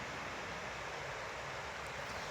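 Gushing river water on the Yukawa River below a balcony, a steady, dense rush with no breaks, faint and distant-sounding; no birdsong stands out over the flow.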